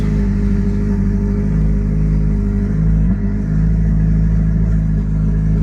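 A car engine fitted with Megasquirt engine management runs steadily up close, a loud continuous idle with a slight dip and recovery midway and no talk.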